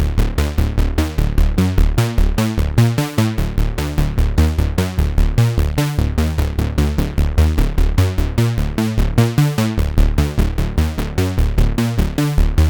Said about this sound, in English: there's the slightly detuned sawtooth analogish type of bass